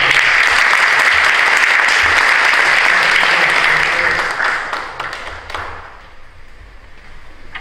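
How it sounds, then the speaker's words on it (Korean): A church congregation at a Protestant anniversary memorial service applauds in welcome, a dense steady round of clapping that carries for several seconds and then thins and fades away. "여러분 박수로 환영해 주십니다."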